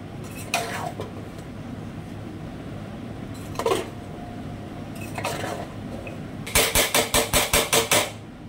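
A pot of basanti pulao being shifted and set aside on a kitchen stovetop: a few scattered metal clunks, then a rapid run of about eight sharp rattling knocks near the end, over a low steady hum.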